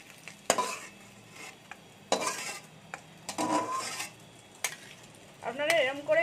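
Vegetables frying in a wok, with bursts of sizzling and the clatter of a utensil stirring and scraping against the pan, close by in short uneven spells, with a brief scrape of metal near the end.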